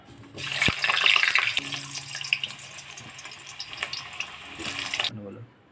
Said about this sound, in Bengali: আলুটা ভেজে নেব আগে।